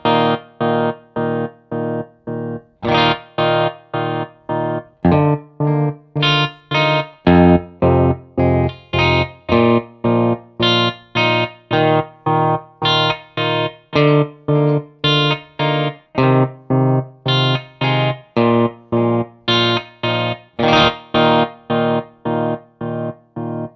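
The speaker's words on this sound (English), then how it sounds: "that was sort of a stronger, kind of a sharper sounding waveform that we chose there with a square wave" Electric guitar runs through a Wampler Latitude Tremolo Deluxe pedal set to a square wave, so each strummed chord chops into sharp, even on-off pulses. The tremolo pattern is fast and regular, close and loud, with no voice over it.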